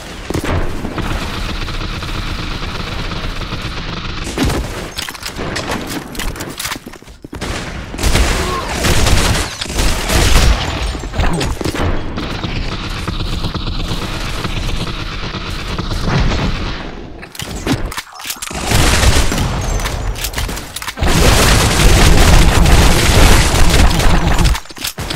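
Gunfire in a modded GoldenEye 007 video game, loud bursts of rapid shots and booming blasts in dense clusters separated by brief pauses, close and dominant throughout.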